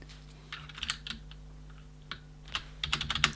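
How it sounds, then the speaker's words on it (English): Mechanical keyboard keycaps pressed back onto Cherry switches on a Ducky Channel DK9008 Shine II keyboard, giving scattered, close, quiet clicks and clacks in small clusters with no talking. "And then you just put them back on by just pressing them down,"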